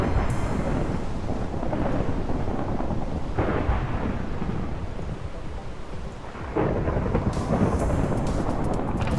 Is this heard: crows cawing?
no